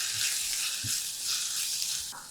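Chopped tomato, ginger-garlic paste, black masala, garam masala, ground coriander and red chilli powder fry in a pan for potato bhaji, giving a steady, soft, continuous sizzle with a faint clink near the start and another near the end.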